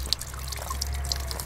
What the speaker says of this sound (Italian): C'è solo un rubinetto in tutta l'isola, la sorgente è questa.